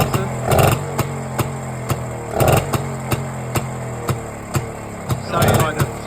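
Engine of a 1961 BSA Bantam D7 motorbike, an old British bike with its timing out, running close and loud in a pulsing rhythm, with three louder surges and steady sharp popping strokes between them.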